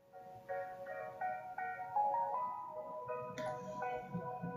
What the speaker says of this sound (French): Oui, il y a le son du piano.